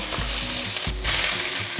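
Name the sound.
bamboo shoots stir-frying in a wok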